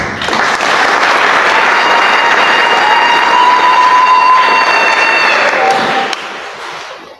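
A church congregation at a Chrism Mass applauds steadily, dense clapping filling the space for several seconds before tapering off, with a faint tone sounding briefly underneath.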